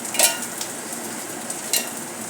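Onion roasting in a pan while cooking crab curry, a soft steady sizzle with two brief louder scrapes of stirring, close and fairly quiet, with no voices.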